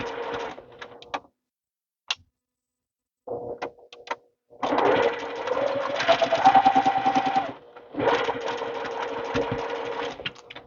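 A sewing machine stitches quilt block seams in several bursts, a close, steady mechanical whirr broken by short pauses and quick starts, with no talking.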